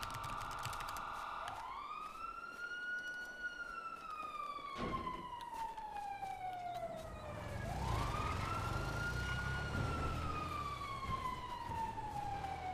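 Fire truck sirens in a GTA roleplay game wail through two long rising-and-falling sweeps, loud and close, with a layered second siren tone and no talking over them.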